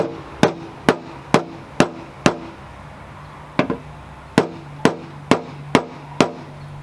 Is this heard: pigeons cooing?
no